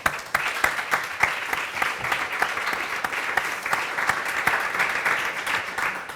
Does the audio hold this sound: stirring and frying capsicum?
no